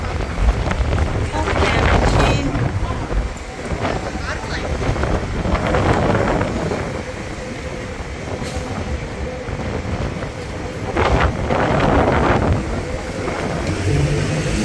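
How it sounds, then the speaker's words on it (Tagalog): Strong wind roars and buffets against the microphone in gusts, with a brief spoken word and a rumbling background like passing traffic or a train. "Lakas ng hangin, guys."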